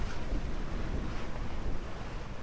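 Sea waves wash and wind buffets the microphone aboard a sailboat under mainsail and staysail off the east coast between Corsica and Sardinia, a steady close rushing roar with no voices.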